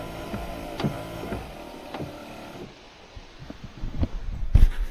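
Windshield wipers on a 1989 Dodge W100 truck running at high speed, a fairly close, rhythmic series of soft swishes and thumps repeating about once a second over a steady low background rumble.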